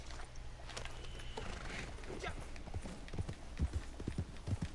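Horse hooves clip-clop in Red Dead Redemption 2 online play, a steady run of soft thuds mixed into a dense wash of background noise, with players chatting faintly alongside.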